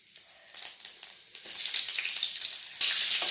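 Cinnamon, fennel seeds and green chillies dropped into hot oil for a chicken curry, bursting into a close crackling sizzle that builds quickly and stays loud and bubbling to the end.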